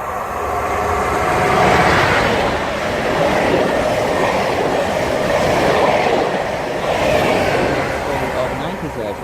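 A Greater Anglia Norwich to Liverpool Street service passes through Needham Market station on the Great Eastern Main Line, producing a loud, sustained rumble and roar of wheels and carriages running by close at hand.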